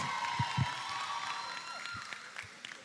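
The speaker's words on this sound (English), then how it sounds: "Round of applause for Team Barbados." Faint, distant applause from the crowd at a Caribbean youth netball tournament for Team Barbados, a soft sustained patter of clapping with a few sharper claps, heard from afar without clear speech.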